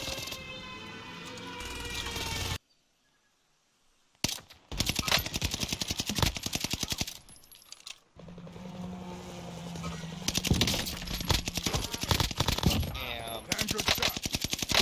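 Rapid bursts of Bren machine-gun fire in a first-person shooter game set in Caldera, loud and dense, broken by a few short silent gaps, with other battle noise mixed in.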